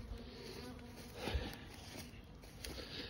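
Honey bees buzz around their hives at Blue Jacket Apiary in a soft, continuous hum of many insects. The swarm stays faint and steady, without voices.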